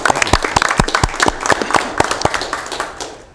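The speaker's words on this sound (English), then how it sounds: "let's just give her a big round of applause for Breathe California's work." Sparse applause from a small audience at a Sacramento air quality district board meeting, a handful of distinct hand claps forming an uneven patter for about three seconds and thinning toward the end.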